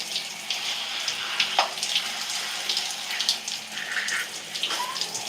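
Water running at high pressure from a shower or faucet while shampoo is rinsed out of sectioned natural curly hair, a close, continuous splashing rush with uneven spatters as the hair is moved under the stream.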